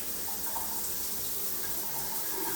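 A waterfall shower head runs with a steady, continuous rush of water that stays close and even throughout, without any talking.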